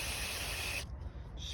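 Mass airflow sensor cleaner sprayed from an aerosol can onto the sensor of a 2014 Nissan Sentra, a close, steady hiss that cuts off sharply partway through, leaving a quiet background.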